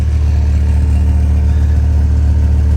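A large Dodge 8.0-liter V10 truck engine idles steadily and loudly, with a deep, even rumble and a faint clatter throughout.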